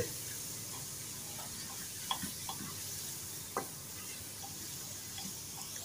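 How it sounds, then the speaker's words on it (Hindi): Minced meat (keema) for an aloo keema dish roasts in a pan over medium heat while a spoon stirs it, giving a faint, steady sizzle punctuated by a few sharp spoon clicks against the pan. "पाँच से 6 मिनट तक दरमियानी आग पे इसको भुनाई करेंगे। चम्मच चलाते रहेंगे इसमें।"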